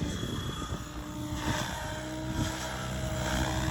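Blade 700 Fusion RC helicopter spinning up at its idle 2 throttle setting, a steady whining rotor and motor drone with broad buzzing hiss, held close and loud throughout with no speech.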